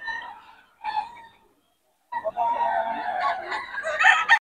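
Chickens and roosters being sold cheaply give short bursts of clucking and a rooster's crow, nearby and fairly loud, separated by brief silences.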